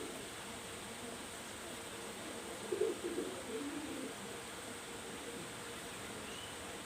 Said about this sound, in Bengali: এটা হলো তাসবিওয়ালা কবুতর